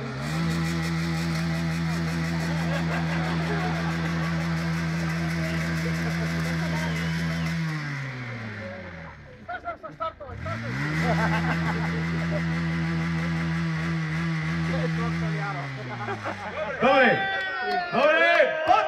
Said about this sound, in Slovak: Dobre, Bránko, ideme na druhú motorku.